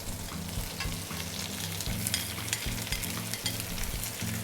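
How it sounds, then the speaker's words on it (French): Thinly sliced white onions soften in hot butter, a dense continuous sizzle with light stirring scrapes, close and loud, no one talking. "Les oignons cuisent 5 minutes, bien comme ceci, bien tombés."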